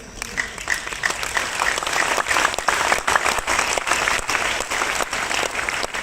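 Audience applause at a Royal Diamond event talk, dense crowd clapping that swells and holds steady for several seconds, with no voices over it.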